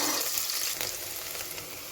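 Sliced onions frying in hot oil in a curry pot on the stove, a steady close hiss and crackle of sizzling with a faint stir partway through, no voices.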